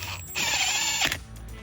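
A power driver whirs for under a second, driving a screw into the bottom frame of a Mercedes W213 E-Class seat, with a short, close, high mechanical whine and a few faint clicks around it.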